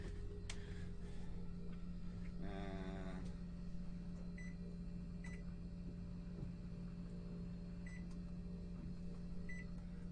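A microwave oven hums steadily aboard a boat, a low constant drone with faint clicks and a short warbling tone partway through.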